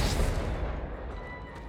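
A Confringo fire spell cast in Hogwarts Legacy lands as a single loud, close blast at the start, then a rumbling tail that fades out.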